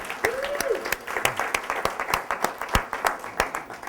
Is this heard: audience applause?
yes